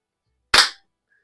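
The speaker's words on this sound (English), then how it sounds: "You can definitely hear that it's making it's pumping up a lot more." Daisy 880 air rifle, a single sharp crack-like burst from pumping or firing, loud and close, in otherwise silence.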